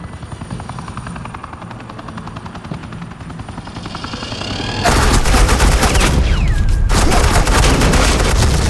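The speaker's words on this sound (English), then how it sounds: "suppressing fire" Suppressing gunfire in the Batman: The Enemy Within video game, with a helicopter's rotor thumping steadily before a loud sustained burst of automatic fire erupts and continues.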